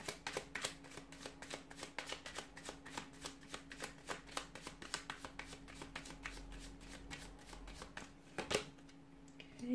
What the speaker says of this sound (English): We'll give the cards a little shuffle and see what messages are coming in for you here